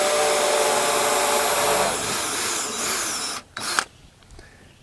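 A power drill pre-drills through an oak board: a loud, steady high whine runs for about three seconds, then cuts off with a couple of brief clunks.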